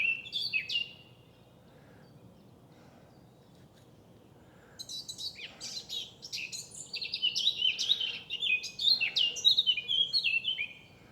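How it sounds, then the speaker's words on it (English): A song thrush sings repeated bright, varied phrases, starting after a quiet pause and continuing steadily over faint outdoor background noise in the New Forest. "Song thrush."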